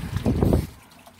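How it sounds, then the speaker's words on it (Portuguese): A hand dips into and stirs the water at the Santo Expedito shrine, making a brief close splash and trickle for about half a second before it settles into quiet. "Vamos tocar na água para nos abençoar."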